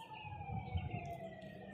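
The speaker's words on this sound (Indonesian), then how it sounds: "Suara ambulan kan itu pak?" A siren from an ambulance or police car wails faintly in the distance, a steady tone that carries across hill country for a moment, with no one speaking.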